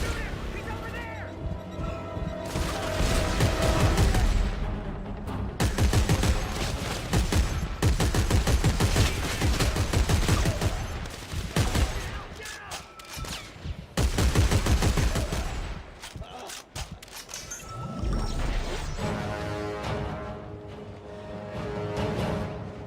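Dense, sustained gunfire fills a Dead Space 3 fight, with rapid bursts and fusillades running almost without a break for over twenty seconds over a low hum, loud and close, with voices shouting through it.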